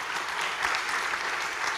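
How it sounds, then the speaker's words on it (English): Steady, dense applause from a lecture audience, an even wash of many hands clapping at moderate loudness throughout the short stretch. "Please give a round of applause to the audience."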